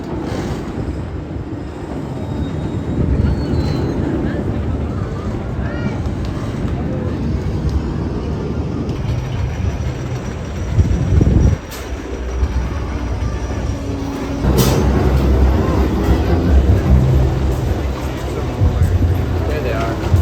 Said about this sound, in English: this is the one currently operating wooden coaster in the park